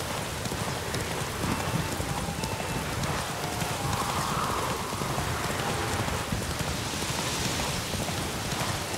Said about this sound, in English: Running in the rain on my horse.